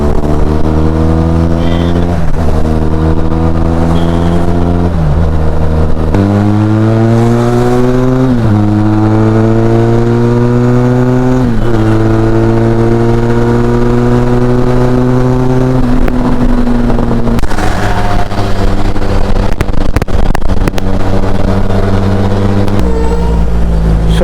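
A BMW XR motorcycle tuned for around 165 to 170 bhp revs hard and rides on, its engine note climbing through repeated gear pulls and dropping between shifts, loud and continuous throughout.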